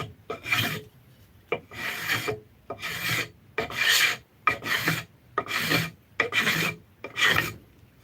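A wood rasp thinning out the back half of a piece of wood on a workbench, eight rhythmic rasping strokes with short pauses between them, close and loud.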